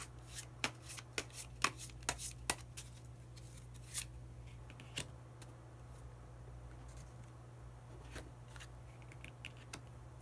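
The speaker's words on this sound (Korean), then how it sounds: "그러면 마지막으로 히든 카드 한 장 더 뽑아보도록 하겠습니다." A deck of tarot-style cards is shuffled by hand, giving a burst of crisp riffling flicks at the start, then softer intermittent card slides and taps, close and quiet, with no voice.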